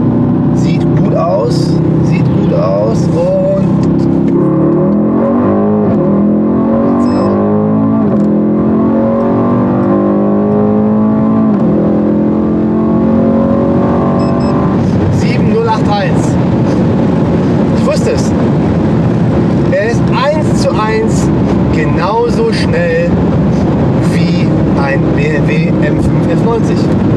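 A Mercedes E63 S or BMW M5 F90 pulls hard from 100 to 200 km/h, its engine note climbing through rising gear sweeps with a shift midway, loud from inside the cabin while people talk over it.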